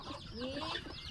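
Chickens on a rural farm cluck close by in short overlapping calls, a busy cluster of hen voices with no speech.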